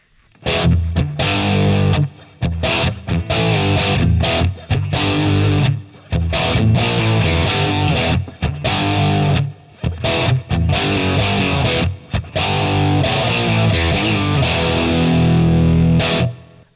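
A heavily distorted electric guitar through a Plexi amp model plays chunky, rhythmic chords with brief gaps between phrases, loud and close, with no voices.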